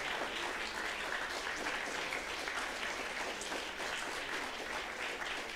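A lecture audience in an auditorium applauds a guest speaker, Sir Simon, with dense, sustained clapping from many hands that stays even and continuous throughout, heard from within the room.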